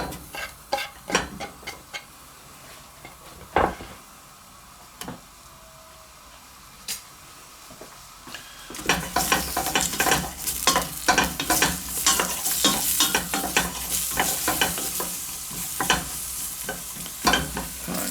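Leeks sizzle in a soup pot for broccoli and cabbage soup; scattered clicks and light scrapes come first, then the sizzle swells as quick, repeated stirring strokes rattle close up, no talking.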